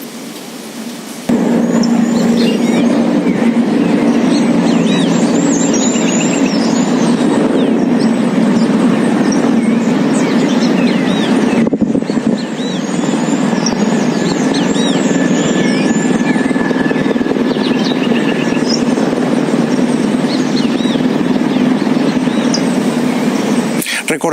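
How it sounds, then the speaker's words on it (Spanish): A distant presidential helicopter in flight gives a continuous, loud droning whir that holds steady for the whole stretch, with faint voices mixed beneath it. "Esta es otra toma lejana del helicóptero."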